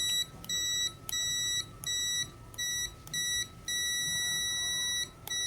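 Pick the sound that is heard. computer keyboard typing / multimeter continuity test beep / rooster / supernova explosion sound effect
multimeter continuity test beep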